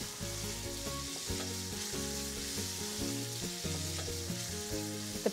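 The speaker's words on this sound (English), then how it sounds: "When the butter is hot, I'll start cooking the pancetta for about 7 minutes until it's nice and crisp, stirring frequently so it doesn't burn." Pancetta frying in hot butter gives a steady, loud sizzle with crackling pops, broken by clinks and scrapes of stirring throughout, no voices.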